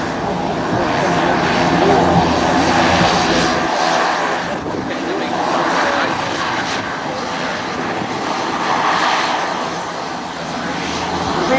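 An Army T-23 Sherpa propeller aircraft of the Rhode Island Army National Guard taxis on the runway at an airshow, a continuous droning engine and propeller noise that swells and eases in gentle waves, moderately near.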